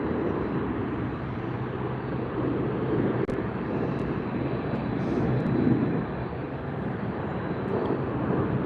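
A Lufthansa A340 on the LAX runway at sunset gives a steady, broad jet roar that holds evenly for several seconds without breaks or voices.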